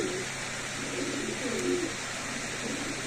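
Pigeons coo softly in a low, throaty murmur under a constant hiss of background noise, with a few faint chirps mixed in.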